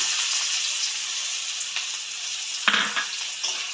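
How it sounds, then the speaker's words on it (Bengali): Chopped onion sizzles loudly in hot oil with black cumin seeds in a pan, a steady bright crackle broken by a few scraping stirs, with no voices. "পেঁয়াজটা দিয়ে ব্রাউন করে ভাজতে হবে"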